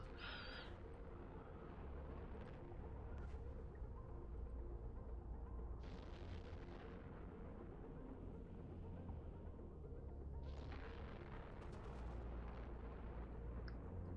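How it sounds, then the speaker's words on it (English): Video game explosions: low, rumbling booms roll on continuously, with a few brighter bursts and crackles layered over a dense, heavy background. "Look at the pretty explosions."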